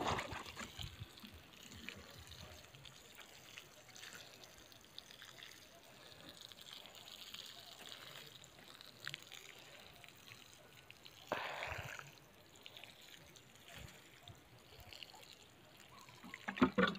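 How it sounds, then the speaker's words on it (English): Water trickles and pours steadily into a planted potato box, a continuous close splashing with a brief louder gush partway through and no talk. "I need to water now."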